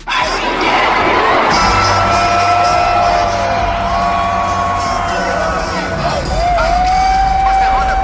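Large concert crowd in Toronto roaring, whooping and singing along during a song, a dense, loud wall of voices with sustained sung tones running continuously throughout.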